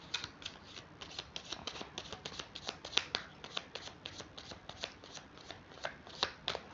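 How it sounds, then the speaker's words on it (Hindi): Tarot deck being shuffled by hand, a rapid run of crisp card riffles and flutters in a steady rhythm, close and alone with no talking. "एक बार और शफल करूंगी और फिर निकालेंगे फर्स्ट कार्ड"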